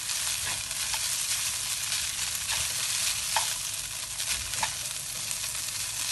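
Egg fries with Hokkien mee noodles in a hot wok, a steady close sizzle broken by scraping stir strokes and light clinks, with no talking.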